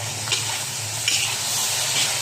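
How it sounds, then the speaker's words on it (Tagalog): Igado, Filipino pork and liver, sautés in a pan with bay leaf and finely ground pepper, giving a steady, close sizzle with a few scraping stirs of the spoon. "Gisa-gisa lang natin yan."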